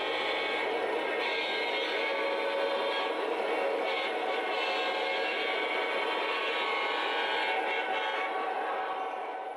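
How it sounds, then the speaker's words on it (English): An O gauge model freight train rumbles past steadily for the whole stretch, a continuous rolling roar of wheels and cars with no voices. "we wait for the inbound freight train to pass"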